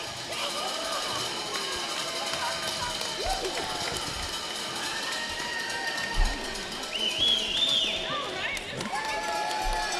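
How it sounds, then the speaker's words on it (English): Crowd noise filling an arena during a Canada vs USA semifinal game, a continuous murmur with squeaking shoes and scattered bumps, some chatter and whistling tones mixed in, moderate and steady throughout. "We'll just let you enjoy the crowd noise for a second."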